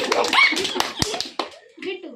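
A group of kids claps in scattered, uneven bursts at close range, with sharp individual claps mixed among children's voices talking and calling out.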